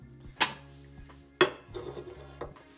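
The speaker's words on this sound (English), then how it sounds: "if we give this a nice stir, and keep stirring that round till it's nice and consistent" Sauce with garlic powder is stirred in a bowl, a spoon knocking and clinking against the sides in three sharp taps over a soft scraping, close and fairly quiet.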